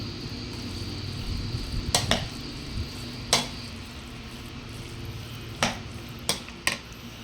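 Crispy pata deep-frying in a pan gives a steady low sizzle and bubbling, broken by a few sharp metallic clinks of utensils against the pan. No voices are heard.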